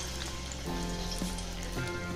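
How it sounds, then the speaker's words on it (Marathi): Small mixed dal vadas dropped into hot oil in a kadhai, giving a dense, even bubbling sizzle with a few soft plops as pieces go in. "आता मी यामध्ये एक वडे तळून घेते"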